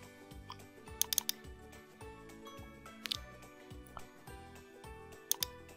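Computer keyboard keys are pressed while working in an Excel spreadsheet, including the F4 key, making a short series of sharp, fairly quiet clicks in an irregular rhythm with a faint background hum.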